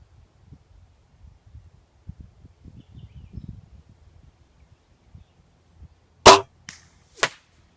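A .22 spring piston air gun fires a pellet outdoors, one sharp loud crack followed a second later by a fainter distant impact snap, after quiet rustling handling noises.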